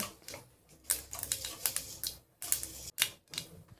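Mustard seeds splutter and crackle in hot coconut oil in a pan, with quick irregular pops and sharp bursts sounding close and fairly loud, and no talking.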